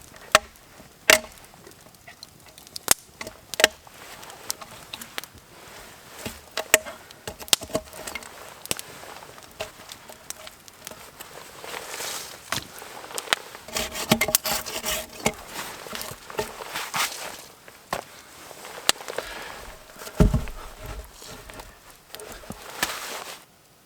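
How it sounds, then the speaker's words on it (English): Hand saw cutting notches into a log during a winter snowstorm survival camp, with no hatchet used; a run of irregular, scratchy strokes and sharp knocks of wood, close by and moderately loud, with no talking. "if I do a little smaller slivers, I'll be able to break it out with the saw easier and should go a little faster for the next 3."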